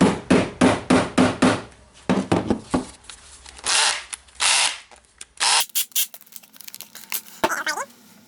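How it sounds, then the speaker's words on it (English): A rapid series of sharp metal hammer strikes on the rusted housing of a water-damaged Makita DDF482 drill rings out in quick bursts, followed by scattered knocks and handling clatter. "So I will try to hammer it slightly."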